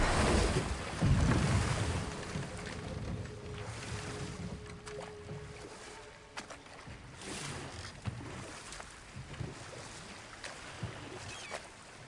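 Waterfall rushing in the video game God of War Ragnarok, a steady broadband wash of water, fairly faint and continuous, with occasional soft clatters and no talk.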